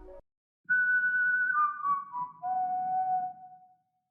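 A dark whistled melody produced in FL Studio holds a long high note, then steps down through a few lower sustained notes, clear and prominent over a soft low rumbling backing.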